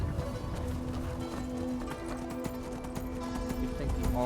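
Horse hooves clip-clopping at a gallop in the fantasy game Skyrim Special Edition, a steady rhythmic patter running throughout under game music and ambience, with a faint whinny.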